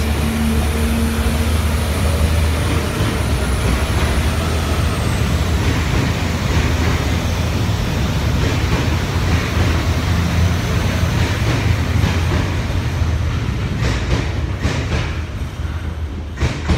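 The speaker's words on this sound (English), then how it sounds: "There's a train there, give me two secs." A train rumbles past nearby, a broad, continuous roar with grinding and clattering that stays loud throughout and shifts slightly toward the end.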